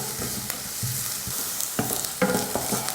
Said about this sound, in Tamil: வெங்காயம் நல்லா வதங்கிடுச்சு.